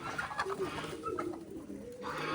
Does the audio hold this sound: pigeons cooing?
yes